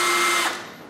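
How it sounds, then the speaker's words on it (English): A power drill whirs briefly at high speed while marking holes on a golf cart, then winds down and stops within a second, close and alone. "I'm just gonna make my marks with my drill"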